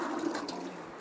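Water being drawn into buckets for carrying on a yoke, a short rushing gush of pouring water that fades after a moment, close by with no speech.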